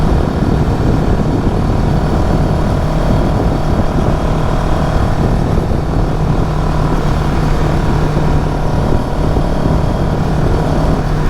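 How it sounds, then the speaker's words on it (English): A CFMoto CL-X 700 café-racer motorcycle engine pulls hard in sport mode, a loud, steady, droning roar that fills the whole stretch without pause. "You can hear the bike open up more."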